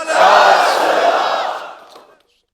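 A large crowd at a religious gathering roars a slogan back in unison, one loud, full-throated shout that swells for about two seconds and then fades.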